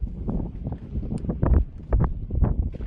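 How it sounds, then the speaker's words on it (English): Gusty katabatic wind pours down from the mountains during a winter gale in Greenland, roaring in uneven low buffeting bursts that swell and fade against the microphone over a steady rushing base. "Katabatic winds coming from the mountains."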